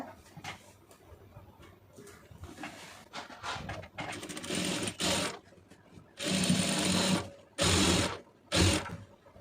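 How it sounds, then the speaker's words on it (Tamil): A sewing machine stitches plain cloth for an Aari blouse, starting with slower uneven stitching and then giving several loud, close bursts of fast running with short pauses between them. "இப்போ கரெக்டாக நமக்கு அந்த இந்த பிளெயின் கிளாத்லேயே வந்து ஒரு தையல் போட்டுருங்க"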